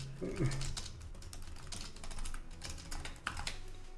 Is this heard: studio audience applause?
no